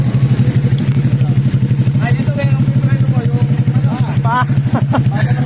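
Drag-racing motorcycle engines at a race championship idle and putter loudly in a fast, steady throb, with faint voices underneath and some metallic clatter nearby.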